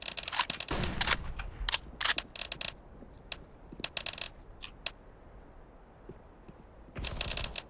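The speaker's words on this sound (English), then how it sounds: "Throwing a flashbang." Flashbang grenade thrown in a competitive Counter-Strike: Global Offensive match: sharp broadband bursts and clattering clicks, loud and scattered across the stretch, with a heavier burst near the start and another at the end, no talk.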